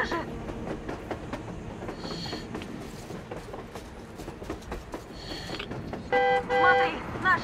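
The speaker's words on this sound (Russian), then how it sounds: "Паровоз! С ума сойти," Steam locomotive in Metro Exodus, rumbling and clanking along the rails with rhythmic wheel clatter, under steady male speech, then a loud whistle-like tone near the end.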